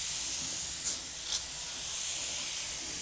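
An Iwata airbrush with its cap removed sprays paint in a steady, bright hiss held close up, with two brief puffs of added air breaking the continuous spray.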